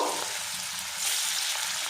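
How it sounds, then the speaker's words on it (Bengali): Muitha dumplings fry in hot white oil in a wok, giving a steady, bright sizzle with soft crackles throughout and no talking. "এবার এই তেলের মধ্যে মুইঠাগুলো দিয়ে দেব, দিয়ে লাল লাল করে ভেজে নেব।"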